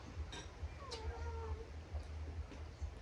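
A cat meows once, thin and drawn-out, over a low steady background hum.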